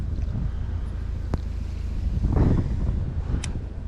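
Wind gusting beside a canal in a large UK city, a steady low roar of buffeting against the microphone with a slight swell midway, no voices.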